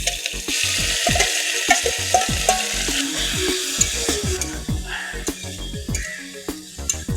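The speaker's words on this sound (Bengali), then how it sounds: "তেল গরম হয়ে গেছে, এবারে আমি চিকেনগুলো ভেজে নেব।" Chicken pieces frying in about one and a half spoons of hot oil in a kadai for street-style fried rice, a bright sizzle under repeated quick metallic scrapes and clanks of a spatula against the pan.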